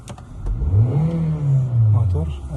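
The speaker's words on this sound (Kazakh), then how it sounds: "мотор әдемі жұмыс істеп тұр" A Hyundai Sonata gasoline engine with about 180,000 km on it runs and revs, its mid-pitched hum rising and falling steadily for a couple of seconds.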